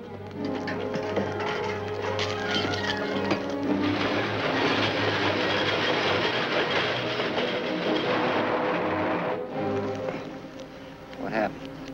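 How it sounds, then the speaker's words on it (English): A train rumbles along rails near a river trestle in an old western setting, a steady dense roar with rhythmic rail clatter that holds for most of the clip, then dips briefly and returns, with voices underneath. "Sounds like a train now."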